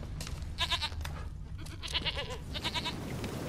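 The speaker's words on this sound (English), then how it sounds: "Here, goat." A goat in the game The Witcher 3 bleats in several short, nasal, wavering calls spaced a second or so apart, fairly close over a low ambient background.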